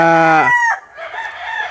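A bull stag rooster at a game farm crows once, loud and close, a harmonic rising call that breaks into a rougher drawn-out tail.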